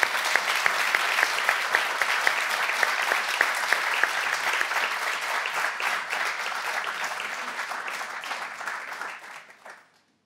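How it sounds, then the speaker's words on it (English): A crowd at a live talk event in Sydney claps in sustained applause for several seconds, dense and steady, before it thins and fades out at the end. "I think we ought to give Tammy a round of applause."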